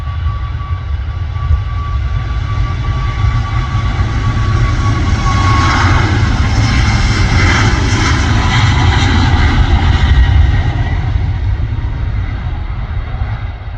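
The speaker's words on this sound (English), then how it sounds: "Ryanair 737 has officially left the deck" Ryanair Boeing 737 jet airliner climbing away after takeoff near Manchester airport, heard as a loud, sustained roar of jet engines with a rumbling low end and a swelling whine, with no voices.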